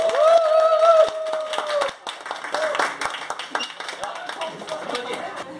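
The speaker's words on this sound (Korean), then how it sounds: "박수!" An audience bursts into scattered clapping at a mouth-sound lesson, with a brief tonal vocal sound ringing over the first couple of seconds before the applause carries on unevenly.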